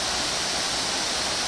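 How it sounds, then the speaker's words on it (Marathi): Panwal waterfall near Ratnagiri in the Konkan region roars with a steady, dense rush of falling water, loud and continuous with no voices. "अतिशय सुंदर असा धबधबा आहे"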